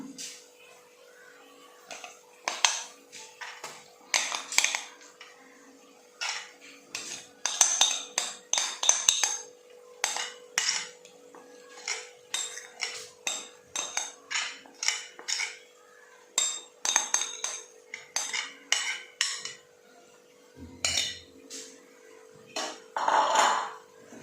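A spoon works a paste of soaked chili powder around a pan for a Kottayam-style fish curry, giving repeated close metallic clinks and scrapes in an irregular rhythm with no talk.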